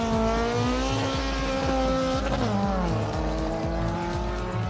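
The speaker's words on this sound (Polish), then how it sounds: "podjeżdża Honda. Przednio napędówki turbo, to na pewno klasa Honda." A turbocharged front-wheel-drive Honda race car approaching at a parallel racing event on an airfield, its loud engine revving steadily with pitch shifts and rhythmic gear pulses, under a commentator's voice.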